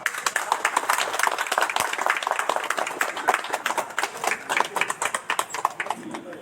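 Loud, close clapping from a crowd at a hospital inauguration ceremony in India, a busy rapid patter of many hands, with some voices audible amid the applause.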